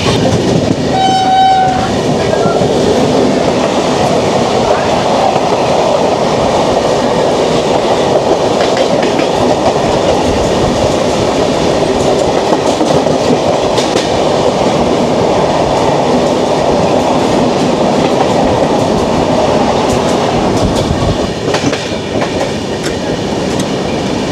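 Balurghat–Kolkata Tebhaga Express, train number 13162, passing close by with a loud, continuous rush of wheels and carriages, steady clickety-clack, and a brief horn near the start, near Dankuni Junction.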